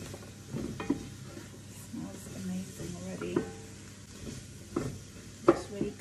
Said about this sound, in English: just give it a good stir until it's really fragrant